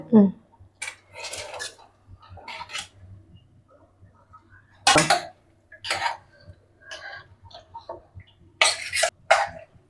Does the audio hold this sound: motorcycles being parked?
no